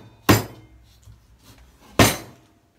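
A cleaver chops raw chicken into small pieces on a board for spicy stir-fried chicken. Two loud, sharp, close chops land well apart, with a few faint taps between them and no talking.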